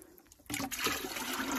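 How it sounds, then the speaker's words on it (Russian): Water emptied out of household containers in a vegetable garden, a sudden loud splashing gush that starts after a quiet moment and keeps pouring steadily close by. "Сегодня всю воду надо вылить, завтра водовоз придет, надо освободить все емкости."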